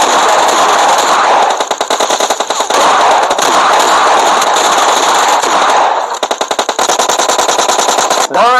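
Video game gunfire, dense bursts of rapid automatic shots cracking loud and close, firing almost continuously for several seconds with brief pauses between volleys.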